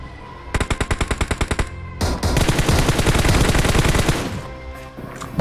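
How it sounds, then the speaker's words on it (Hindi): Battle royale video game gunfire during a squad tournament match: a rapid string of evenly spaced loud shots, then a dense sustained automatic burst that trails off, with another shot at the end. "डीपीएन क्लैन के बंदे जो है वो हल्क संजय पे वो फायरिंग किए जा रहे हैं"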